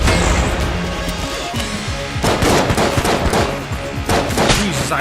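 Rapid video game gunfire from Enter the Gungeon, dense bursts of shots and impacts layered over game music, with the heaviest volleys in the second half.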